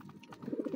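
Pet pigeons coo in a short, soft burst of low rounded calls, a few notes running together and growing slightly louder toward the end, close by with no talk.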